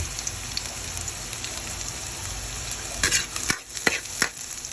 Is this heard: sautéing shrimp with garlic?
yes